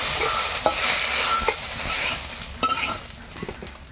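Prawns frying in a little oil in a village kadai in the Sundarbans, a steady close sizzle broken by scraping stirs of the spatula against the pan.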